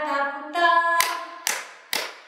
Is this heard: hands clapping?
yes